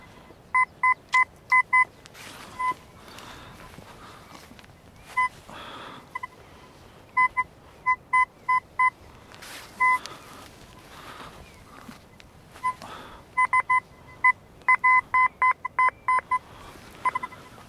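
A metal detector sweeps a field for coins, giving repeated short electronic beeps in quick clusters, clear and fairly loud over a faint outdoor background.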